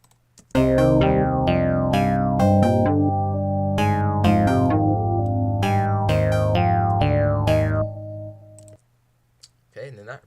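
A synthesizer bass preset in FL Studio plays a bouncy repeating riff with plucky, bright note attacks over a sustained low tone, then cuts off, followed by a brief soft noise.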